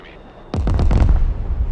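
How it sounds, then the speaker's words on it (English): Bombs dropped by Su-25 jets onto buildings in the Broken Arrow war game burst in a sudden loud, deep blast, followed by a rumbling roll of several overlapping detonations that fade slowly. "let's bomb these buildings here that look like they might hold a garrison"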